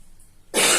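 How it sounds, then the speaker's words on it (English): A single loud, harsh cough bursts in after a near-silent stretch, close to the listener and filling the end of the clip. "I'm just going to cough."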